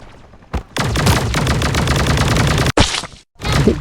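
In the mobile battle game Sausage Man, a water gun fires a long rapid burst of loud, close, machine-gun-like shots, cuts off abruptly, then fires two shorter bursts.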